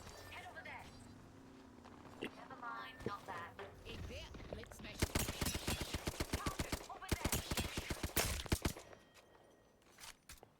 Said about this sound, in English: Trying to get some distance shots off.